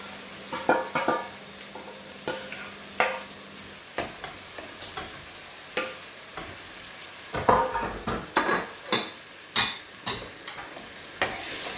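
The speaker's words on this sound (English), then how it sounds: "To that, I'm going to add my grated onions." Grated onions for chicken jalfrezi sizzle in a pan under a series of sharp, uneven spoon scrapes and clacks against the metal, close and fairly loud, with a soft frying hiss between the strikes.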